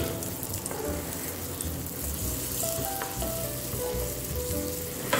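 Onion frying in butter in a pan, a steady close sizzle with a constant crackling hiss, alone throughout with no talk.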